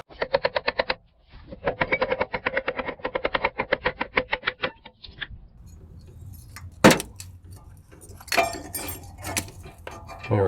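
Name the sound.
loosening a rusted 14 mm caliper bracket bolt on a Mustang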